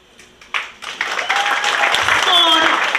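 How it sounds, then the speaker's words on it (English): Applause for a student at a secondary school graduation ceremony, starting as a few scattered claps and swelling into steady crowd clapping, with a voice speaking over it. "he must be applauded for that"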